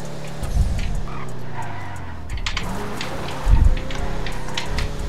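Cars racing in GTA RP, engines revving and roaring close by with tyre squeals and skids, punctuated by a couple of heavy thumps, while someone talks over the action.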